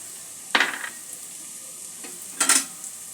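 Nuts for a poha dish drop into a hot pan with parboiled vegetables, giving two short bursts of sizzle and stirring scrapes separated by near silence.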